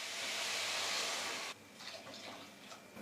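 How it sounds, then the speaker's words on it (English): Water poured into a soup pot of vegetables, a loud rushing pour for about a second and a half, then quieter splashing and trickling as it settles, close by. "Add in 3 to 4 cups of water."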